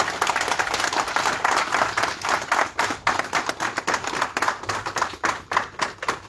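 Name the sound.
audience applauding Monseigneur Kpodzro at a press conference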